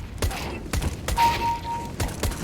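Bursts of AK rifle fire in a shooter video game, several short volleys spread across a couple of seconds with a thin tone in between, fairly loud and without talk.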